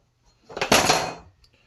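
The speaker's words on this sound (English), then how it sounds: "I'm going to set it down in my little pot here" A homemade firestarter set down in a small pot indoors, a single short clattering knock with a brief ringing decay, close and fairly loud.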